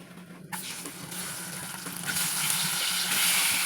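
Eggs land in a hot oiled pan and burst into sizzling frying, the hiss starting abruptly and growing louder and denser over a few seconds, close up and without talk.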